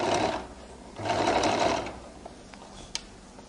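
A sewing machine runs in two short bursts of stitching along a flared skirt seam, a close whirring rattle, followed by a few faint clicks and taps.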